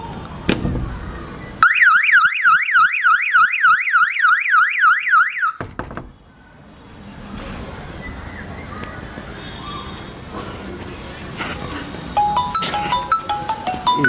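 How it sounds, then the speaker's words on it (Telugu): Home anti-theft device sounding a police-style siren alarm, a loud warbling electronic wail that cycles rapidly for about four seconds and then cuts off abruptly, leaving quieter room noise and faint clatter. "ఇక్కడ పోలీస్ సైరన్ రావడం జరుగుతూ ఉంటుంది."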